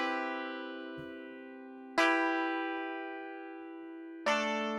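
Three dry, unprocessed guitar chords strummed one at a time and spliced together, each ringing and slowly decaying before the next sharp strum, close and clean.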